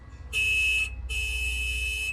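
A truck horn blares twice, a short honk followed by a longer sustained one, loud and nearby over a low engine rumble.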